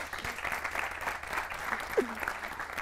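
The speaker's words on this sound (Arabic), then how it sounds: "تصفيق له، ما قصر، تصفيق له." Studio audience applause on an Arabic talk show, soft, steady clapping from a crowd heard at a distance, continuous and fairly faint throughout the short stretch.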